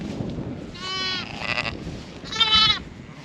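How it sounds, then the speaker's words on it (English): Newborn lambs, still wet, bleating in two distinct wavering calls close by, separated by a short pause with soft farm background noise. "So these are the fresh lambs."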